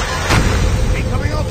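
A video game missile launch and blast: a single heavy, booming burst of artillery-like fire, loud and close, with a rumbling tail and voices underneath.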